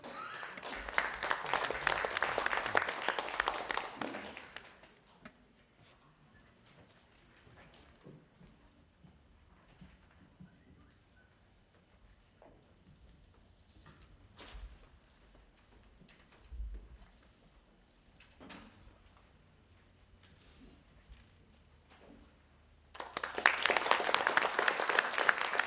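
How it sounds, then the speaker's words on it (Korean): An audience claps to welcome a speaker at a 120th-anniversary academic conference on the Donghak Peasant Revolution. A loud burst of applause fades out, quiet room noise follows, and then a second strong round of clapping begins. "큰 박수로 환영 주시기 바랍니다."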